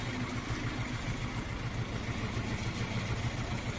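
A small Jinma 404 tractor engine idles steadily at a low, even putter, moderately distant, with no voices.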